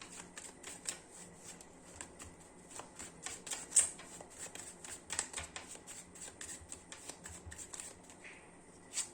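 Tarot cards are shuffled by hand in a quiet room, with a run of soft, rapid riffling flicks and slaps, close and fairly faint, with no voice.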